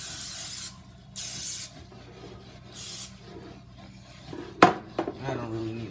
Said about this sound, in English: I'm gonna spray the pan now.